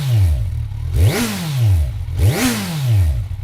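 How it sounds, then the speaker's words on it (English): Kawasaki Z1000 with KO Lightning aftermarket exhaust pipes blipped twice, each rev rising sharply then falling back to a rough, loud idle, close up with no talking. "let's have a listen to the exhaust"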